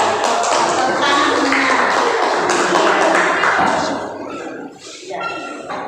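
A classroom of students clapping together, a dense, fairly loud burst of hand claps that fades toward the end while voices talk over it.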